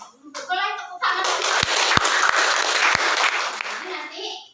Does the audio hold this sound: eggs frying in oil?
no